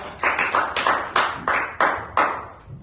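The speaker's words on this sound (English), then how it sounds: "Give applause to Daddy, guys." Children in a young learners' classroom clap for a father, a series of about nine distinct, crisp claps in a loose, slightly uneven rhythm, close and fairly loud.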